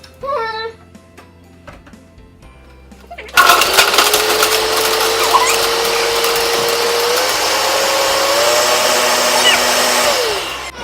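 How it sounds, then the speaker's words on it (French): A blender starts abruptly and runs loud and steady for about seven seconds, a dense whirring roar with a rising motor whine, as it mixes ingredients with barbecue sauce and milk; brief voices come before it starts. "Bon, donc, on va mixer ça, ma belle."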